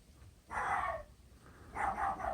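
A dog barks twice, a short bark and then a double bark after a pause, at moderate distance outdoors at night near a playground, with no talk.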